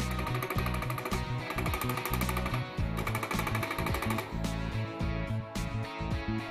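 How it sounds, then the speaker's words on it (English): A Technomark Multi4 hand-held dot peen marking machine hammers a part with its stylus, making a loud, rapid mechanical rattle in steady bursts that runs throughout with only brief pauses, and no speech. "Multi4 will electronically compensate level differences between the part and the stylus, allowing a perfect marking on round surfaces."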